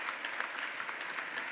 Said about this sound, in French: Clément Sédac, vous pouvez l'applaudir